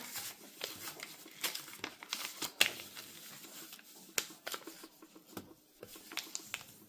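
Paper being creased and folded for a junk journal, giving soft, close crinkles and sharp little taps and rustles in an irregular rhythm, quiet and alone.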